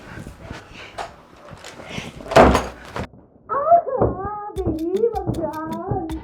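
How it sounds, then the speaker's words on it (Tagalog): A door in a home is shut with a single heavy thud that stands out sharply, with voices talking before it and a conversation carrying on afterward. "Isara muna yung pinto."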